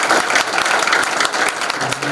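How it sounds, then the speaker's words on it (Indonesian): Lively applause from a seated audience of seminarians at a recollection talk, many hands clapping densely and loudly with a steady, unbroken texture. "tepuk tangan yang meriah untuk Bapak Eko"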